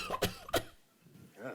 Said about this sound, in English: 3 students even gave audio samples of their coughs.